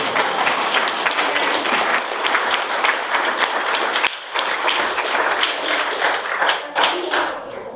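An audience applauding steadily at an Appalachian spoken-word storytelling event, a dense, even wash of clapping from a full room that dips briefly partway through and then carries on.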